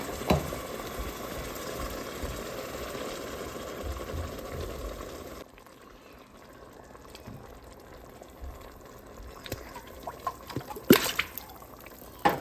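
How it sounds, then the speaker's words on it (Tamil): Two cups of water poured into a cooking pot while making mutton bone coconut milk biryani, a low splashing trickle that thins out midway, followed by sparse drips and light clinks near the end. "இப்போ ரெண்டு கப் தண்ணி விட்டு போடுறேன்"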